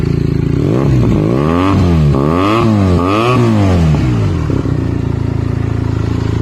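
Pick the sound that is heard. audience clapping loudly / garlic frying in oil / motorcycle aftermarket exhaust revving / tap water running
motorcycle aftermarket exhaust revving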